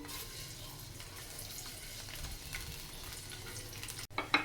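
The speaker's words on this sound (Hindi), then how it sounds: "अब लहसुन को हल्का सा हमने भून लिया है।" Garlic fries lightly in two spoons of oil in a kadai, giving a soft continuous sizzle with faint stirring, then a brief dropout and a few sharper clatters at the end.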